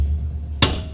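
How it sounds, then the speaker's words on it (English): A hammer drives a socket onto a locking wheel nut. One sharp, loud metallic strike rings out against a low, steady background hum. "we're gonna hammer it on and then see if we can get it off"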